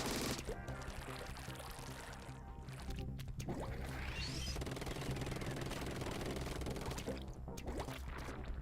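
Ink weapon firing in the video game Splatoon 2, a loud, sustained wet, splashy spray of rapid liquid bursts that runs almost unbroken across the stretch, layered over dense game sound with brief dips, and no voices.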